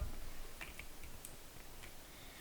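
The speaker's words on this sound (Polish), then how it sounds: "Wpisujemy green screen w wyszukiwarkę." Light, irregular keystrokes on a computer keyboard as a search term is entered in Roblox Studio, with soft scattered clicks over a low steady background hum and no talking.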